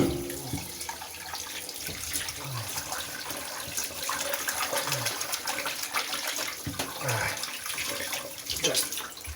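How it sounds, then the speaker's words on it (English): Cold tap water runs and splashes through the cavity of a whole chicken being rinsed out, an uneven gushing and gurgling up close with shifting flow and no talk. "this is where we rinse it out and run water through it"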